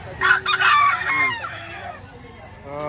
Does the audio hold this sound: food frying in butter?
no